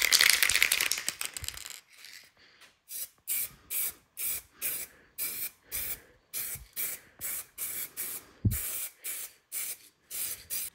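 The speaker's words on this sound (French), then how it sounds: "Petite bombe de peinture noire." A can of black spray paint sprays in a long opening burst, followed by a rapid series of short, evenly spaced hissing spurts at close range, with a faint rattle and no voices.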